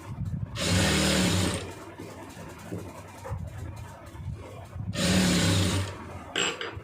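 A sewing machine stitches a chudidar in two motor runs, each about a second long, separated by a quieter pause of handling sounds. The whirring is steady and fairly close.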